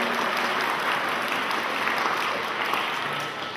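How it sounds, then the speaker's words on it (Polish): Warm applause from the audience at a Christmas concert in Gąbin, steady dense clapping that carries on throughout and eases slightly at the end. "gorące brawa"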